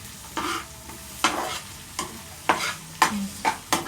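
Ginger stir-frying with chicken liver and gizzard in a pan, a soft sizzle under a series of sharp, evenly spaced spatula scrapes and taps, close and without talk.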